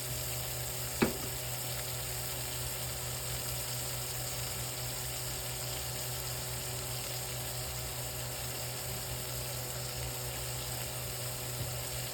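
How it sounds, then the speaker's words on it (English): Chuck roast beef pieces sear in a hot pot, giving a steady, continuous sizzle with one brief knock near the start and no talking. "Add the chuck roast pieces to the pot and sear them on all sides."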